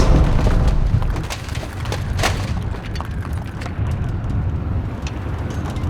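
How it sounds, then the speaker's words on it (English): A building shaking and splitting apart into two halves, heard as a loud low rumbling roar with cracking, splintering bursts scattered through it, steady and heavy for the full six seconds, with no talking. "The entire building shakes as it's pulled apart in two halves."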